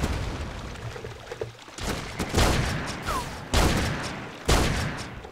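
Shotgun fire in the Terrorist Takedown video game, with several loud blasts spaced a second or so apart over a noisy background of game sounds.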